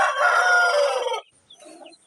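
Chickens at a home coop shaded with a thatched cover, with a rooster crowing loudly and close for about a second, followed by a few softer clucks from the hens.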